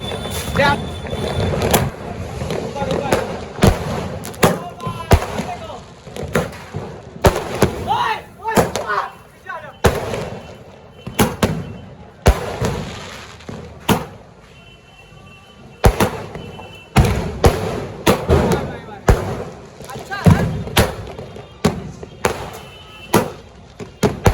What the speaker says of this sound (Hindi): अभी हम लोग जा रहे हैं 12 शॉट जलाने जा रहे हैं